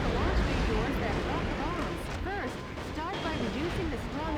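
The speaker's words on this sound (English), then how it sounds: "So let's try out the shotguns on those." Shotguns blast away at standard buildings in the mech game Metal Wolf Chaos, a dense, loud stretch of repeated booms and crashing debris, with someone talking over the action.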